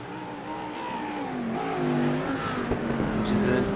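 A race car powers through a corner at Okayama circuit, its engine note steady and rising slightly as it exits, with a commentator talking over the continuous drone.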